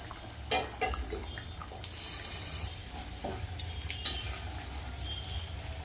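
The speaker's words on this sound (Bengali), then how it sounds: "ঝোল ফুটে গেছে এবার মাছগুলো দিয়ে দেবো" Rohu fish pieces slide into a boiling potato curry, giving a soft, steady sizzle and bubbling with a few brief splashes and clinks close by.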